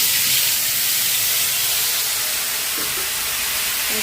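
Pointed gourd frying lightly in a pan, a loud, even, hissing sizzle that holds steady throughout, close up and without speech.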